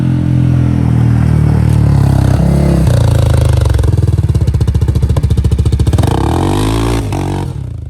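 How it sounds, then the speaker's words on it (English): A CFMOTO ZForce 500 UTV engine roars loudly at high revs, then bounces off the rev limiter in a rapid, stuttering pulse for several seconds before the revs drop. "Oh, you hit rev limit."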